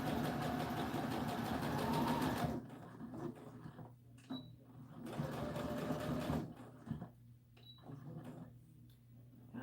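Sewing machine stitching an American Girl doll dress, a steady close mechanical whir running in two stretches separated by quiet pauses with faint handling sounds.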